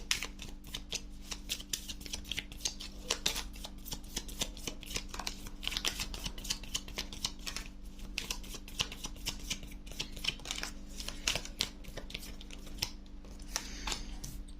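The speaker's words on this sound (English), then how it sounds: "I was holding my deck upside down, so I'm just going to reshuffle." Tarot deck being reshuffled during a reading, a dense steady run of rapid card flicks and riffles continuing throughout at close range, with no talking.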